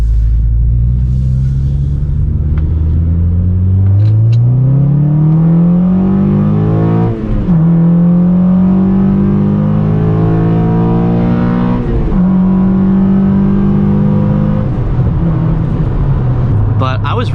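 A Honda Civic Si with a cold air intake accelerates hard through the gears from inside the cabin: a loud rising engine note that drops at each upshift and climbs again, with a steady rumble underneath.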